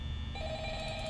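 A telephone in the Five Nights at Freddy's video game gives a brief electronic ring, a steady tonal trill that starts partway in over a low background hum.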